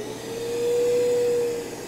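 A Festool CT26E HEPA dust extractor runs up to speed, giving a loud, close, steady whooshing roar with a thin tonal whine that swells and then eases slightly.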